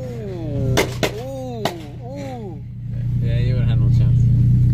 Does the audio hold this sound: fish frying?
no